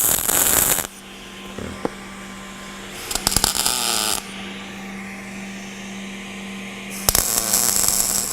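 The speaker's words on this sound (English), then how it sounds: "Now we're ready to tack weld it." A MIG welder tack welds a large steel rooftop railing, giving three loud, close buzzing crackles of about one second each over a steady electrical hum, without talk.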